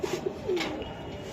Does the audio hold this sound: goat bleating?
no